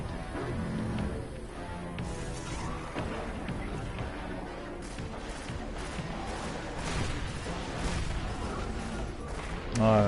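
Sustained enemy gunfire in the Destiny video game on PS4, a dense, continuous barrage of shots with booming impacts near the end, loud and steady throughout with no voices over it.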